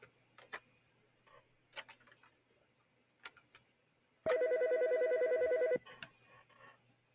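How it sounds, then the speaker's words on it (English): A phone in the video game Operator rings in a single loud, buzzing electronic burst of about a second and a half, set between soft ticking clicks with no talk. "All right, let's answer this phone."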